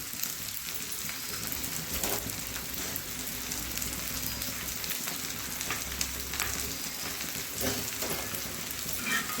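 Masala with chopped ginger roasts in a pan for chicken kharda, giving a dense, continuous crackling sizzle like rain, close and steady with faint stirring scrapes.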